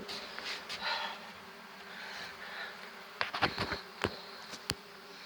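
Honeybees drone continuously around a small backyard hive during an inspection, a steady close buzz with several sharper passes of individual bees flying near.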